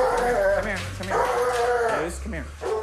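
A problem dog in the United States barks and whimpers in short, close yips and whines amid a person speaking nearby.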